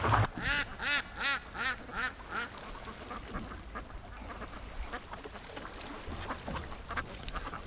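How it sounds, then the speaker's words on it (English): Ducks on a lake, Muscovy among them, quack in a rapid rhythmic series of loud, close calls, then keep up a softer, scattered chatter with wind noise and no talking. "the wind is blowing me, and it's freaking the ducks out here"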